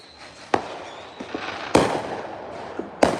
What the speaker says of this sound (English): Okay, here they go again, y'all. This big money over here. They got all the fireworks.